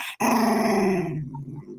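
A dog growls steadily and fairly close for most of the clip after a brief gap, the rumble fading slightly toward the end.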